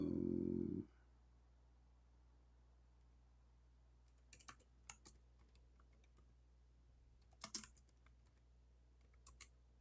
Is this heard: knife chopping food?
no